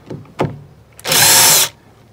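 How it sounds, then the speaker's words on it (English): An impact driver zips a small screw into wood in one quick, loud burst of about half a second, ending abruptly. A couple of short taps and clicks come before it. "you see that noise it made? Quickly came into contact, quickly screwed in, and stopped"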